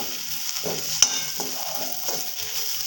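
Coriander powder frying in a pan for chickpea curry, stirred with soft scraping strokes over a steady low sizzle, with a sharp clink near the middle.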